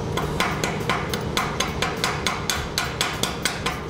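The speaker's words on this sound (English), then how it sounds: "Okay, now we're going to clean the slag off the 7014 first." Chipping hammer knocking slag off a 7014 stick-weld bead, a fast, steady run of sharp metallic taps, close and fairly loud, about three or four strikes per second with no talk.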